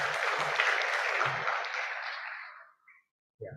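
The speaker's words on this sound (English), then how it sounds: "please give a round of applause for Michael" Audience applauds presenter Michael at the Indonesia Energy Transition Dialogue 2023, a dense steady clapping that thins and fades over about three seconds, with a brief final burst of claps.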